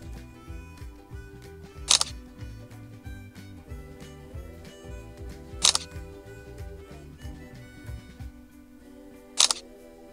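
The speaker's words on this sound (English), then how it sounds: "the next time we press the shutter button, it will count down and take a photo automatically" Three sharp mechanical shutter clicks from a camera on automatic timed capture during stop-motion shooting, evenly spaced about four seconds apart over a steady tonal background hum.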